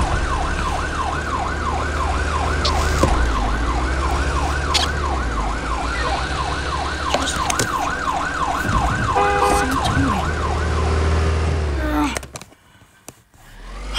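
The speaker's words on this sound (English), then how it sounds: "I see a fire truck!" Loud fire truck siren cycling in a rapid yelp over a rumbling motor for about twelve seconds, then cutting off abruptly as the level drops.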